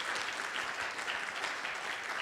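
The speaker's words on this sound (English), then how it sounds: "Let's give Dr. Robertson one more round of applause" An auditorium audience applauds, a dense, steady wash of many hands clapping throughout, fairly close and even.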